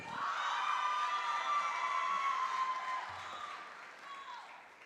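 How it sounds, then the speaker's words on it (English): Audience applause and cheering at an awards ceremony, clapping mixed with shouts and high whoops that swell early and then slowly fade. "I knew you were going to get the loudest applause"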